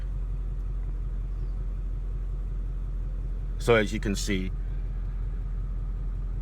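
A Ford Mustang GT's Coyote 5.0 V8 engine, warmed up, idles with a steady, deep low rumble throughout, and a person speaks briefly over it partway through.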